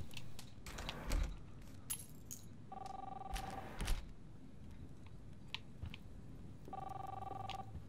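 Keys jangling in the video game Life is Strange, with scattered metallic clinks and rattles spaced across the stretch, alongside two steady electronic tones that sound like a phone ringing, all fairly quiet.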